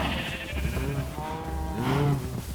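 A Minecraft sheep bleats while being sheared: a near, steady wavering baa that repeats in two drawn-out calls over a constant background hum.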